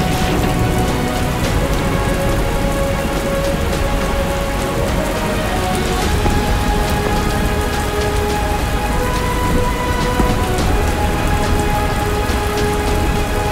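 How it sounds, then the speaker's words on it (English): Heavy rain pours steadily and loudly, a dense constant hiss of drops hitting surfaces, with no voices over it. "pouring down rain out here"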